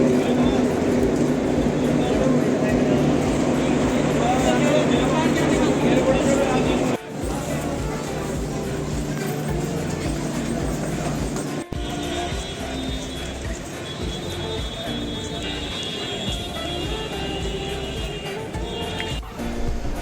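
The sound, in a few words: Delhi railway station platform with trains and crowd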